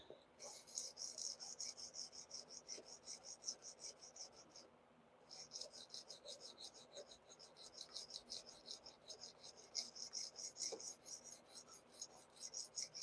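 Steady rhythmic rasping of a CPM 15V steel blade on a Spyderco Para 3 knife being sharpened, quick repeated strokes running almost continuously with one brief pause, moderately close.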